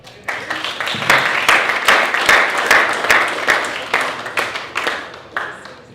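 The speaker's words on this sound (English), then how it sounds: "please join me in a round of applause" Applause and clapping from an audience at a London finance summit, dense overlapping claps swelling in and holding steady for several seconds before thinning slightly at the end.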